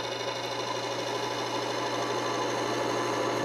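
A lubricant friction test machine running with base oil gives a steady mechanical hum with a sustained whine, holding an even level throughout.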